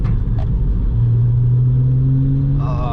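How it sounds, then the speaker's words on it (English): Deep, loud rumble of a 2002 Porsche 996 Targa's flat-six engine with a Kline exhaust, heard from inside the car on a canyon drive, steady low drone rising gently in pitch as it pulls. "Oh yeah, low end grunt of the flat 6. Can't replace that sound."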